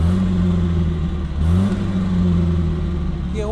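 A Wolseley 1300 car's engine drones steadily while driving on a road test, a close, loud hum with a brief rise in revs partway through.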